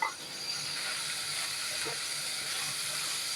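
Fenugreek greens fry in a pan with garlic, giving a steady, soft hiss of sizzling that runs evenly throughout at moderate distance, with no voices.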